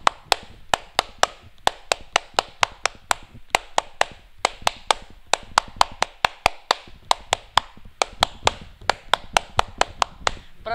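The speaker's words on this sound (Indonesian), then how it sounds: "aku bakal tepuk pramuka dulu kali ya" Hands clap in the rhythmic Indonesian scout pattern known as tepuk pramuka, a long run of sharp, close claps in syncopated groups with brief pauses and no voices.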